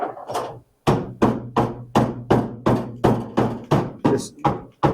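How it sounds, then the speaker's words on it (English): A hammer pounds on a rusty car floor, about a dozen sharp, evenly spaced metallic thuds close by after a brief pause. "just lightly pound on it, and you can see now there's a little bit more rust down there"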